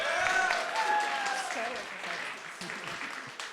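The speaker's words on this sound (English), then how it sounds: "Let's hear it for Frost." An audience claps and cheers at an Overwatch 2 LAN tournament award ceremony, a sustained wash of hand claps with shouted cheers that holds steady throughout.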